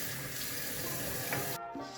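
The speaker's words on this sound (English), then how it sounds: "now I'm just going to use some hot water," Hot water runs steadily from a bathroom tap into a sink, a continuous close splashing rush that shifts in tone near the end as the flow changes.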